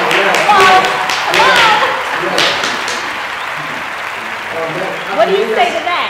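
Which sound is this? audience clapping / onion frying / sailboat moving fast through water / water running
audience clapping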